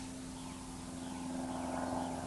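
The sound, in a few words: airplane flying overhead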